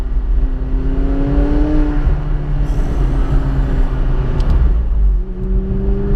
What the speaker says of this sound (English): If I want a little bit more noise, I can pop down the rear window like so, which acts as a wind deflector. And you can hear the engine a little bit more.